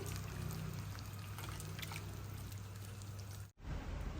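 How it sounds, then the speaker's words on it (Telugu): Strained tamarind juice pours into a pot in a soft, continuous liquid stream, quiet and close, then breaks off abruptly near the end. "చింతపండు రసం మొత్తం ఇందులో మన టేస్ట్ అనుసారంగా వేసుకోవాలండి"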